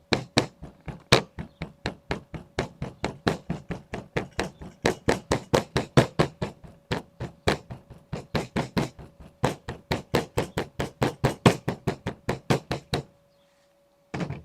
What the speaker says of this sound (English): So we gotta hammer this.